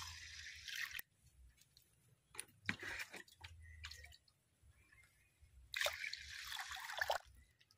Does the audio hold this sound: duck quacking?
no